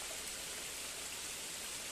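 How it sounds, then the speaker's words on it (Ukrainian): Heavy rain pours down outdoors near a garden in a dense, steady hiss that fills the whole moment, close and continuous, with no voices. "Новий напад дощу."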